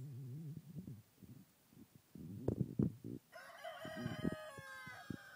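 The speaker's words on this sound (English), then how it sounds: "There's the little chicken." A chicken clucks and bumps softly close by, then a rooster crows loudly and clearly in the latter half.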